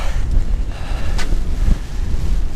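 Strong wind buffets the microphone on a seaside pier, a loud, constant low rumble with gusty fluctuations and no talking.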